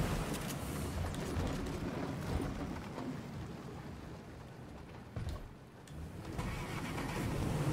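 A car engine drones and rumbles continuously in the Fortnite video game, a loud, dense mid-range roar that dips briefly near the end before swelling again.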